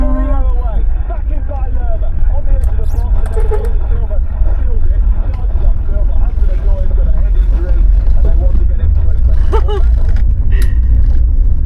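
A Morris Marina Estate with a 1800 B-series engine being driven, a loud steady low engine rumble from inside the car with people talking over it throughout.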